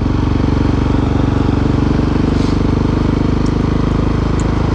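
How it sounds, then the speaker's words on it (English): A 701 Supermoto motorcycle engine running steadily, a loud close rhythmic single-cylinder thrum with a constant beat and no talking over it. "This is one noisy engine."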